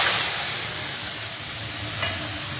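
Ground cumin, coriander, chilli, turmeric and ginger sizzling in a hot pan while being stirred, a loud steady hiss with a brief scrape near the end.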